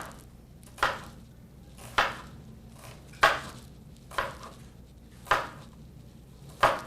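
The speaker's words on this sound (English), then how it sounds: "I'm just going to make a couple of slices going through the onion in one direction, and then going from the top to the bottom" A knife slices through an onion on a cutting board in six sharp, evenly spaced chops, each a crisp thunk with a short fade, set against quiet room tone.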